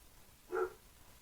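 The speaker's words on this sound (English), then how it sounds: "my dog's still barking" A single short dog bark sounds at moderate distance, one brief tonal burst against a quiet background with no talking.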